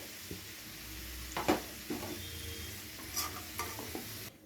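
Partly fried potatoes lifted from hot oil with a spoon, giving steady soft sizzling and a few scraping stirs and clinks against the pan; no talking.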